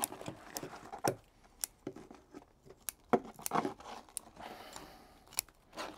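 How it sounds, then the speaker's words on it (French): Scissors snip the roots of a bonsai being mounted on a rock in the seki-joju style, giving a series of sharp, separate close-up clicks with small rustles between them and no talking. "on va se servir des ciseaux pour couper un peu ses racines parce qu'il y en a beaucoup"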